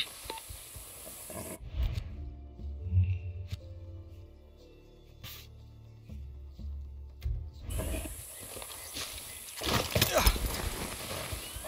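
Horse hooves clip-clop in Far Cry 6 gameplay, a run of steady hoof strikes at moderate volume with game ambience and a brief quiet stretch in the middle, ending in louder mixed noise.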